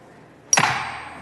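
A single sharp strike in the Texas House chamber, the clerk's voting bell hit once, rings out with a bright attack and a long decaying shimmer after a quiet moment.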